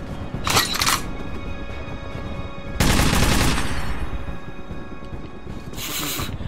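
Bursts of automatic gunfire and shots in the video game Metro 2033 Redux, loud rattling volleys in three separate bursts with short gaps between them.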